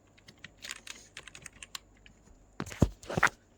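Quick taps on a computer keyboard as a name is entered into a website sign-up form, light scattered keystrokes building to a louder flurry near the end, with no speech.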